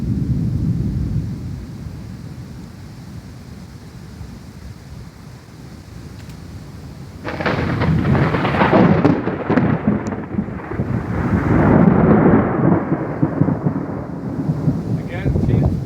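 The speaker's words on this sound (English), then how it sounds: "It's raining." Thunderstorm with rain: steady rainfall and wind buffeting the microphone, then a loud rolling thunderclap bursts in partway through and rumbles on for several seconds, swelling again before easing.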